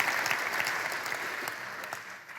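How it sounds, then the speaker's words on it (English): A keynote audience at a tech industry conference breaks into applause, a dense, even wash of clapping that fades slightly toward the end. "That's worth applause, absolutely."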